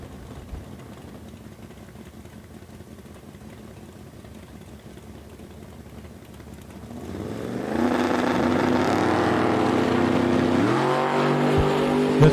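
Drag racing at Eddyville Raceway Park, with a quiet, low ambient first few seconds, then a pair of bracket cars roaring off the line, engines rising in pitch through the gears, loud, near and sustained to the end.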